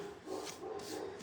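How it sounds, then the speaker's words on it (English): Household dogs barking, set off by a delivery arriving at the house: faint, muffled barks and yips in the background, steady and close together over a low room hum, with no talking. "sorry if you can hear my dogs barking"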